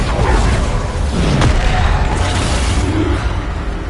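A Depulso force spell going off in Hogwarts Legacy on PS5, a loud booming burst with a sharp crack near the middle, set against busy in-game combat noise with no voices.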